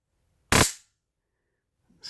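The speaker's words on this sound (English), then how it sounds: "My stun gun. Look at that. A stun gun." A handheld stun gun fires one short, loud, sharp crackling burst near the start, then silence, with a faint second burst beginning at the very end.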